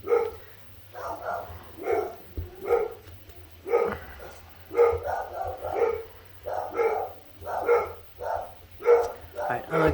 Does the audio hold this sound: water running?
no